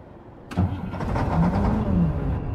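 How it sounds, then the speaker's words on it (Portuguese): In the Truck Logistic video game, a truck engine cranks and catches after a brief quiet moment, then settles into a loud, steady, low rumbling idle close up. "o som do caminhão"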